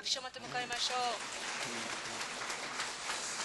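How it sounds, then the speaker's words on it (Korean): A church congregation in Osaka claps for a visiting pastor, a dense, fairly soft wash of applause rising after a brief spoken voice at the start. "우리 뜨거운 박수 한번 보실까요"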